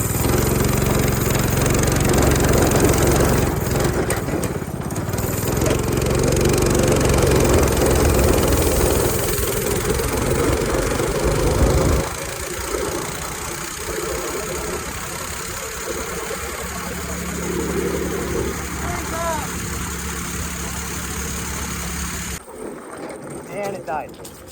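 Small jalopy go-kart engine running loud and rough for about twelve seconds, then dropping to a lower, uneven idle that sputters and cuts out near the end.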